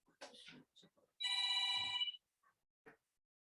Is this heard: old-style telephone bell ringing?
yes